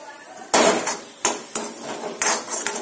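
Spiced stuffed eggplant masala with kasuri methi being stirred in a pan, a metal spoon scraping and knocking the pan in four or five sharp clatters spread over a few seconds, close and fairly loud with no talk.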